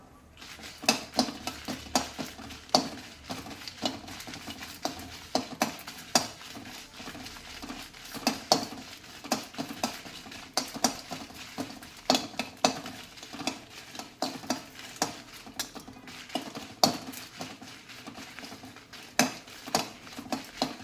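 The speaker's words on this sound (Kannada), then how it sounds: "ಒಂದು ಹತ್ತರಿಂದ ಹನ್ನೆರಡು ಮೆಣಸಿನ್ಕಾಯಿ ಹಾಕ್ಕೊಂಡು ಅದನ್ನು ಫ್ರೈ ಮಾಡ್ಕೊಳ್ತೀನಿ" Ten to twelve dry red chillies fry in a drop of oil over medium heat for uppsaru, with close spatula scrapes and clinks against the pan repeating irregularly over a faint sizzle.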